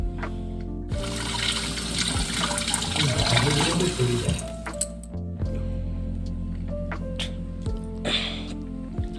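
Tap water runs into a kitchen sink as blueberries are rinsed, a steady splashing stream near the microphone with small clinks and a pause partway through.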